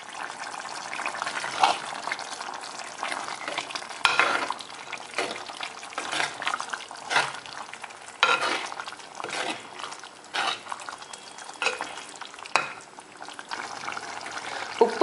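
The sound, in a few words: stirring mutton curry in pan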